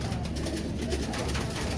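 Pigeons, including golden Teddy birds, coo in a low continuous murmur at a large crowded pigeon market in Lahore, the soft rolling calls blending into steady background noise with no talk.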